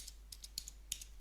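A handful of quick, crisp keystrokes on a computer keyboard while entering text into tuning software, sharp separate clicks in an otherwise quiet room.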